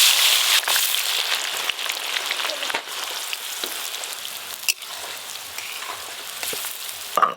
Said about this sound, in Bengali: বিরিয়ানির জন্য বেরেস্তা ভেজে নেব।